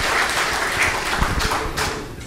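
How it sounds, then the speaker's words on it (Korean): Audience at a women's volleyball rookie draft ceremony gives a round of applause for club officials and coaches, a dense, steady crackle of many hands clapping at close range throughout, with occasional louder thumps. "박수 한번 부탁드리겠습니다."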